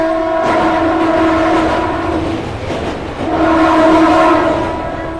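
A Katwa to Ahmadpur local train runs on a single line, a steady close rumble with clattering wheels and two long horn blasts, the second after a short gap.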